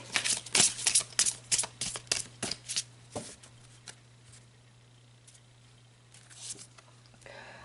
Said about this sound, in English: So let's pull some cards and look at you and this person specifically.